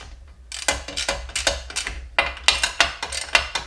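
Ratcheting clicks while a bolt is tightened on a DeWalt DWE7491RS table saw stand, coming in quick close bursts of several clicks each with short pauses between, loud and up close with no talking.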